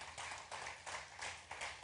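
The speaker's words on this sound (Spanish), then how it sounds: "¿Quiere dar un aplauso al Señor?" Congregation applauding in a church service, a fairly faint, steady run of hand claps with rhythmic swells, no voices over it.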